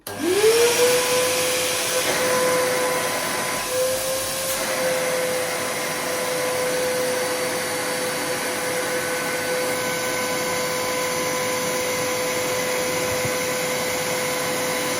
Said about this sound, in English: So let's test with the vacuum.